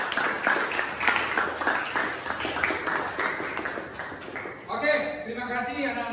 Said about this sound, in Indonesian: tepuk tangan kepada Randy